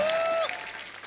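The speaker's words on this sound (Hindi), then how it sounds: "इनके लिए जोरदार तालियां।" Studio audience applause on a comedy show greeting Mumbai's dabbawalas, a dense burst of clapping under a held musical tone that cuts off, leaving the clapping to continue more softly.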